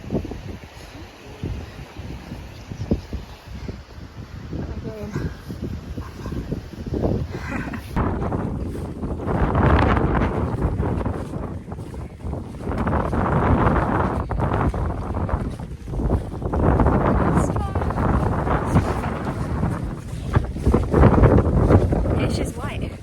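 Gusting wind buffets the microphone high on Ben Nevis in cloud, a roaring low rumble that swells and falls, with brief speech early on.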